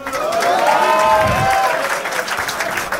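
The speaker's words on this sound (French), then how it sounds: "applaudissez-le, non?" A crowd applauds at a rap battle, a dense burst of clapping with a few cheers, loud and close, holding steady before thinning out slightly toward the end.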